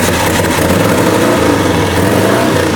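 A Harley WLDR drag race motorcycle engine runs loud and close with a steady, rough, throbbing idle that holds without a break.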